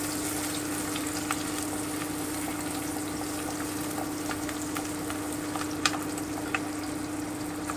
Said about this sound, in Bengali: পেঁয়াজটা আমি কিন্তু ডিপ ফ্রাই করবো না, হালকা করে ভেজে নিচ্ছি